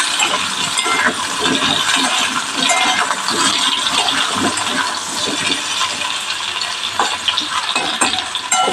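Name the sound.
potatoes frying and stirred in oil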